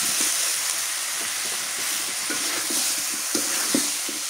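Eggplant frying in a pan of spice paste for a village-style home dish, a steady broad sizzle and hiss with soft scraping stirs ticking underneath now and then, close and continuous, with no voices.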